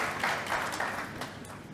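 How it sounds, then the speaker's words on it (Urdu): An audience at a naat poetry contest applauds the participants, a steady wash of clapping from many hands with a few louder swells, heard without any speech. "تو ان لوگوں کے لیے بھی ایک بار میری گزارش پر تالی بجا دیجیے"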